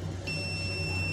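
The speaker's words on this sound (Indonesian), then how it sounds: "kita coba saja ukur pakai skala buzzer ya" A multimeter's continuity buzzer gives a steady high electronic beep, starting abruptly and holding continuously over a low electrical hum, close and even in level, while testing a shorted Polytron 24-inch LED TV.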